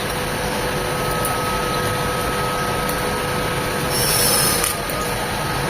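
Bay leaves, torn cinnamon pieces and a few dried red chilies sizzle in a few spoonfuls of hot oil, a steady close hiss that swells briefly near the end.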